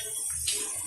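A spoon stirs jujube pickle with jaggery in a pot, a brief wet sloshing scrape with a light metallic touch, close and alone.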